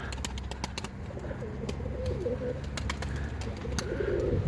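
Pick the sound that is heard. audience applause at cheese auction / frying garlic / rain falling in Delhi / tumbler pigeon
tumbler pigeon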